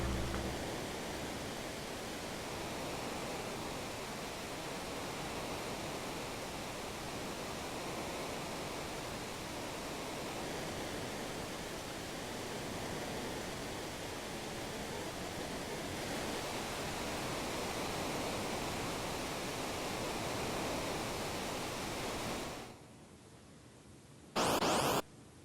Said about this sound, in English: Let's wrestle these piranha as we fall down a waterfall.